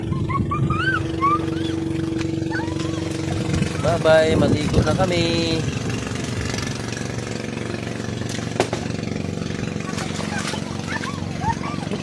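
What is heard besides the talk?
motor boat engine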